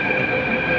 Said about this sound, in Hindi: ट्रेन इस तरीके से आती है, बहुत फास्ट गाड़ी होती है।